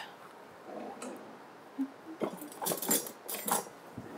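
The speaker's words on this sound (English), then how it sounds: "Give it a stir here" A whisk stirs garlic sauce in a pot, giving scattered light metallic clinks and scrapes, some sharp and bright, set against a quiet kitchen background with no talking.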